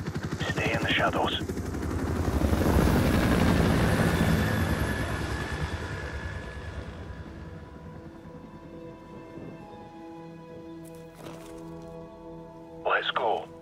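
An enemy helicopter's rotor roar in Call of Duty 4: Modern Warfare grows and fades past overhead, loud at first then receding, with brief sharp cracks and short voices near the end.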